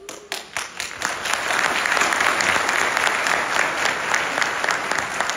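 An audience at a Burdur political rally for an AK Party mayoral candidate breaks into sustained applause: dense, loud clapping that starts with a few scattered claps and swells into a steady roar.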